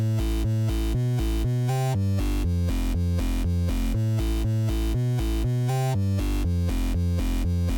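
A loud, pulsing synth bass line thumps in a steady repeating pattern, buzzy and bright, with no voices over it.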